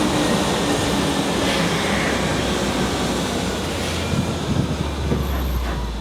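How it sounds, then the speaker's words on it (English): Theme park tram slowing to a stop, a steady loud rumble of wheels and running gear throughout with faint squeals and clunks near the end. "Please do not attempt to exit the tram until it comes to a full,"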